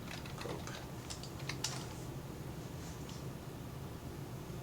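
Someone types a name on a computer keyboard in a short, irregular run of light clicking keystrokes. The clicks sit up close against a steady background hiss, with no talking.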